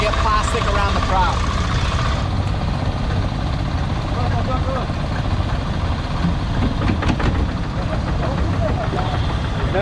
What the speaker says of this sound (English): one gnarly thing about these engines is there's no idle